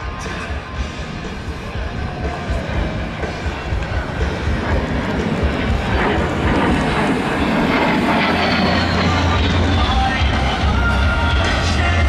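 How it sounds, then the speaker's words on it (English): An A-10 Thunderbolt II jet flies at an air show, a loud, broad roaring engine rumble that swells and holds as it passes, with crowd and announcer voices underneath. "Ladies and gentlemen, from your right, Major Thorpe and the A-10 Thunderbolt II."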